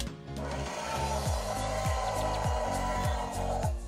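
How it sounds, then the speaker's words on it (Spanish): A Jurassic World Hunt 'N Chomp Tyrannosaurus Rex electronic toy gives a quick snapping bite followed by a long, loud electronic roar, with repeated low pulses running steadily throughout. "Es un pequeño chasquido con un rugido muy largo."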